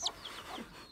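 Short clucks and soft cheeps from a hen and her young chicks, close and fairly quiet, a few brief calls within about a second with no talking.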